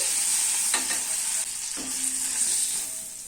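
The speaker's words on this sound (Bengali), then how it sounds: "চিংড়িগুলো ভাজা হয়ে গেলে তুলে নিচ্ছি।" Fried prawns are stirred in a pan of hot oil and lifted out, giving a steady sizzle with a couple of scraping stirs, close and alone.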